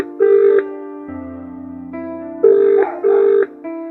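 A mobile phone call is being dialled: several steady keypad tones beep in short bursts, with a lower ringing tone between them, clear and close with no talking.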